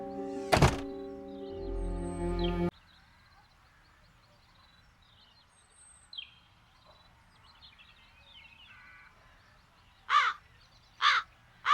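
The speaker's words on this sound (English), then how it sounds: "Something's wrong with those crows." Crows caw in three sharp calls late in a quiet scene from the adventure video game The Dark Eye: Chains of Satinav, set in the town of Andergast, after an earlier loud thunk and low ambient hum.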